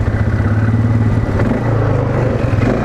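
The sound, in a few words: ATV engine revving through mud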